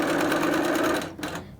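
A sewing machine stitches quilt fabric for half-square-triangle blocks, a steady rapid close-up whirr that stops just after a second.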